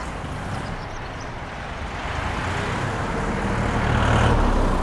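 A used Iseki NT540 farm tractor with a front dozer blade, roughly four to five years old and past 1,600 hours, runs with a broad, steady engine roar that grows gradually louder and closer.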